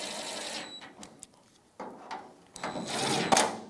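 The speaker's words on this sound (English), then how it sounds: "using the T40 bit, we're going to tighten up the latch mounting screws." A T40 bit on a power driver snugging tailgate latch mounting screws on a 1992-1996 Ford F-150, giving whirring runs and brief clicks, near and moderately loud, with a longer run at the end.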